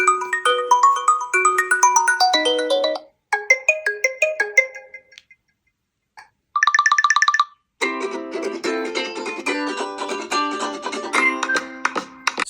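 A ringtone melody plays from the Dolby Atmos speakers of a Tecno Camon 40 Pro smartphone, with several bright, tonal phrases broken by short pauses, loud and clear with no talking.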